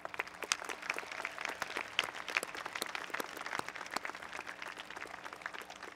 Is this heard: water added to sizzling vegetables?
no